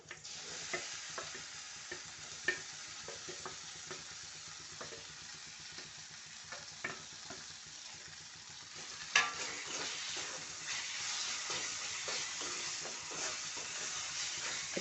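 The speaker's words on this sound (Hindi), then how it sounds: "अच्छे से मिक्स कर लेते हैं और 1 मिनट सेक लेते हैं" Roasted eggplant mixed into turmeric and spices and fried in a pan for baingan bharta, giving a soft, low sizzle with repeated faint spoon taps and scrapes, slightly fuller frying toward the end.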